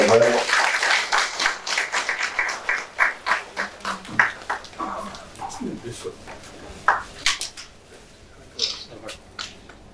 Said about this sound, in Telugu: గట్టిగా ఒకసారి చప్పట్లు కొట్టండి.